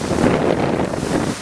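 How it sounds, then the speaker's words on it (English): Strong wind blows in off the ocean at a marina, buffeting the microphone with a loud, continuous, rumbling roar that stays dense and steady and carries no voices. "you can hear the wind just coming in off the ocean here"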